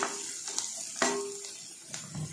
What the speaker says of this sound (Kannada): ನೋಡಿ, ಈಗ ಈರುಳ್ಳಿ ಸ್ವಲ್ಪ ಫ್ರೈ ಆಗಿದೆ.